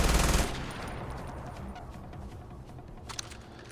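Gunfire in the video game Far Cry 4, a loud close burst at the start that gives way to a rumbling stretch with scattered fainter shots trailing after it.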